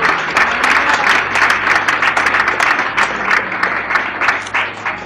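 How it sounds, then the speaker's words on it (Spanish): A church congregation bursts into loud, energetic applause, many hands clapping in a dense, sustained roar with occasional sharper individual claps standing out, close and full throughout. "Un aplauso para Jesucristo."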